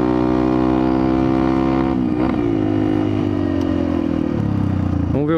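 A Yamaha XTZ 125 motorcycle with an aftermarket exhaust runs loud and close on a ride over dunes. A steady engine drone dips and shifts pitch as the throttle changes, ending in a short rev.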